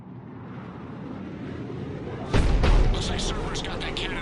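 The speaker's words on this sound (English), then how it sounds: "Looks like Cerberus got that cannon operational" The Cerberus cannon in a video game fires with a loud booming blast partway through, followed by crackling, echoing debris over a steady background rumble.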